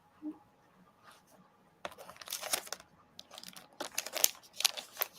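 Dry papery shuffling and riffling in quick bursts, close by, starting faintly and growing busier and louder after a pause, with no talking.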